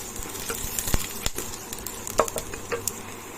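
Chilies and black cumin sizzling in hot oil with garlic and onion for a pointed gourd peel mash, a steady close crackle with scattered sharp pops and a few stirring knocks.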